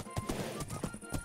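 Horse hooves clopping in a video game, a short burst of quick, fairly loud thuds over steady game background sound.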